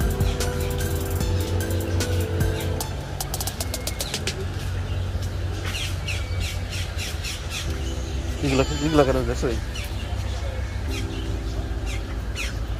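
Birds near the water in Miami let out harsh squawks and chirps, most prominent in a loud cluster toward the end, while people talk and a car engine hums underneath.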